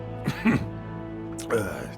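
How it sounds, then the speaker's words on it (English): A game character gives a short, quiet throat-clearing cough, a couple of brief rough bursts, followed by a second short cough-like sound a moment later in an otherwise quiet scene. "He brings himself back to the comfort of Earth with a cough."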